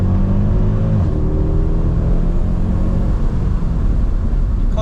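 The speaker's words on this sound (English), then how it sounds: "The sound just doesn't get better than an AMG, does it, Tom?" Loud, steady engine and exhaust drone from a 2010 Mercedes E63 AMG, a deep continuous rumble that holds for the whole stretch with no talk over it.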